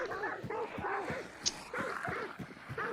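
Dogs bark and yip repeatedly in a hunting video game, a rhythmic run of close, sharp barks with whimpering tones over a quiet background.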